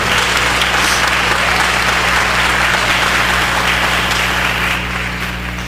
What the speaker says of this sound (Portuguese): Aplauda o nome do nosso Deus nessa noite.